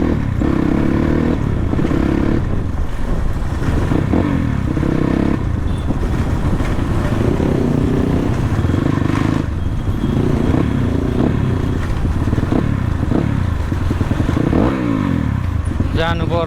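A motorcycle ridden along a dirt trail, its engine droning and revving steadily throughout with rattling and scraping from the rough ground, loud and close.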